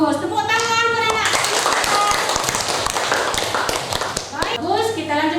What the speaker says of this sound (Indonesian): tepuk tangan buat anak